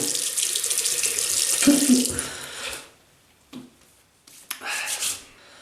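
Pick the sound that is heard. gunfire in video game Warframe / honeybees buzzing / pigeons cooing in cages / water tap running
water tap running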